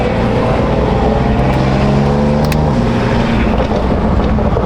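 Corvette with a new grill exhaust revving loudly up close, a steady deep burble that climbs and falls through a couple of throttle blips, with no talk.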